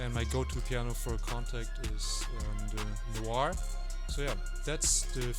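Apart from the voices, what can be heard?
No everyday noise stands out behind the speech.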